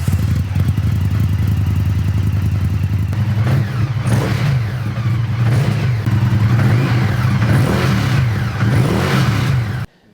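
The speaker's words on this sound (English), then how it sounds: "Yeah, it has that real lumpy V-twin sound, doesn't it?" Indian FTR1200 S V-twin motorcycle with an Akrapovic exhaust, catalytic converters still fitted, revving in a steady lumpy throb that rises and falls in repeated surges, loud and close, then cutting off at the end.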